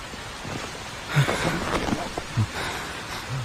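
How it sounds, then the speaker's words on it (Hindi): Rain falls outdoors at night, a steady hiss of drops throughout, with a few brief low thuds and faint voices breaking through. "बारिश हो रही है।"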